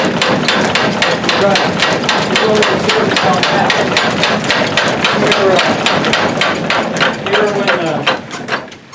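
An old mechanical blacksmith's power hammer with a sticky clutch pounding in a fast, steady rhythm, loud and close, with clanking machinery and a running motor underneath.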